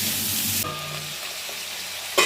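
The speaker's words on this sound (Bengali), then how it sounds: "সবজিগুলো ভেজে নেব।" Pumpkin, eggplant and potato pieces fry in a pan with a steady close sizzle. A louder burst of stirring or frying noise comes near the end, and nobody talks.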